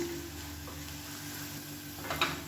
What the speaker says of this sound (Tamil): இப்போ பாருங்கள், பூண்டு நல்லா வதங்க ஆரம்பிச்சிருச்சு.